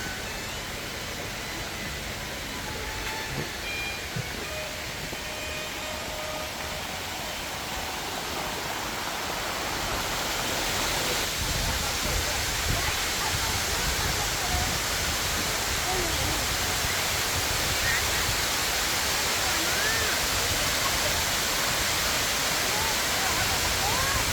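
Broadband rushing water from a waterfall near the Bridge on the River Kwai, Kanchanaburi, Thailand fills the scene, growing louder and steadier partway through with no voices.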